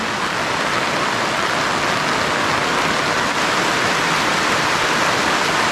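Heavy rain pours steadily outdoors onto a roast pig in the Philippine countryside, a dense continuous hiss with no pauses.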